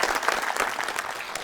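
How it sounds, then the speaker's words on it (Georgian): Studio audience applause on a children's television show, a dense burst of clapping from many hands, close and steady for a moment without voices. "საოცარი აპლოდისმენტები"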